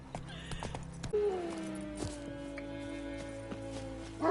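Roach the horse in The Witcher 3: Wild Hunt gives a loud whinny partway through, with clip-clop hoof steps around it and a steady game-ambience hum underneath.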